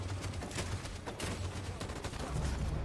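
Sustained gunfire and volleys of shots in a Detroit video game battle, a dense continuous barrage of fire with sharp bursts over a low rumble.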